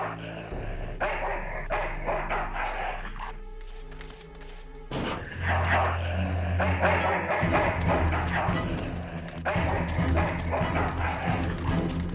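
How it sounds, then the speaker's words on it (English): A dog in the video game Full Throttle barks and yips in quick bursts over the game's music and sound effects, loud and close, with no talk over it. "Dog jumps in car, eats meat, jumps out, kills me."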